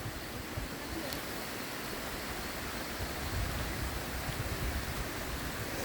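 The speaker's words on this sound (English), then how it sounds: "Actually, right now it's kind of raining" Steady rain falls through dense tropical forest near the Maracas waterfalls, a constant broadband hiss with no pauses, close and even throughout, and no voices.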